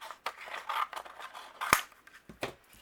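Scissors snip and trim cardstock in close, crisp cuts, a run of soft slicing strokes with one sharp louder snip midway, heard alone without talk.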